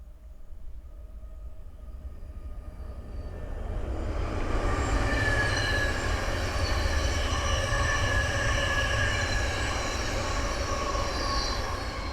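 A Thameslink Class 700 train travelling from Gatwick Airport to Bedford approaches and passes close by on the Midland Main Line, a rising rumble of wheels on rail swelling into a loud steady roar with faint squeal.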